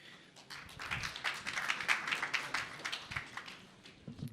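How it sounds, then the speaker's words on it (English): Audience applause at a tech conference talk, a steady patter of many hands clapping at moderate distance, fairly faint and without speech. "Please give them a round of applause."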